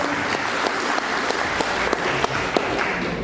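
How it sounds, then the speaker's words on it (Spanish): An audience breaks into loud, sustained applause after a Peruvian writer's talk on violence in Peru, a dense wash of many hands clapping with a few sharper claps standing out. "fuerte los aplausos"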